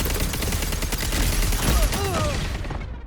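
Rapid automatic gunfire from a weapon in the shooter game Concord, a dense, loud burst of rattling shots with booming impacts and a brief whistling sweep near the end.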